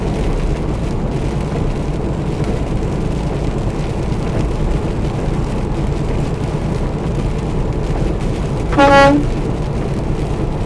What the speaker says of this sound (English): Passenger in the Mustang wanted me to hump my air horn.